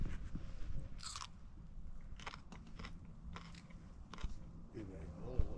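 Food is chewed close to the microphone at a camping trip, with repeated crunchy bites and wet mastication in uneven bursts, plus a few soft rustles.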